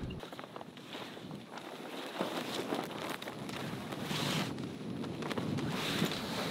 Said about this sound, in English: Super windy, gusty day